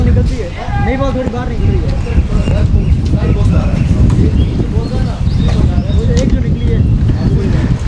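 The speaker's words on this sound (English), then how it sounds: "A big gust blows across KCC." A strong gust of wind sweeps across a cricket ground during a Sunday club match, a steady low rushing roar under continuous commentary voices for the whole stretch.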